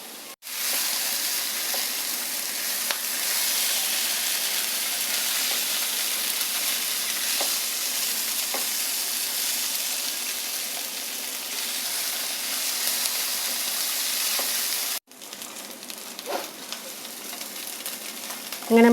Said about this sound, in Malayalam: ഇനി ഈ കൊഴുക്കട്ടയും ഈ മസാല എല്ലാം കൂടെ കിടന്ന് ഒന്ന് മുരിഞ്ഞു വരണം ചെറുതായിട്ട്